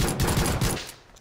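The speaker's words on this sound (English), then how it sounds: "I shot him once" Video game gunfire at a sniper event comes as a rapid, close volley of loud shots, then trails off into quiet within about a second.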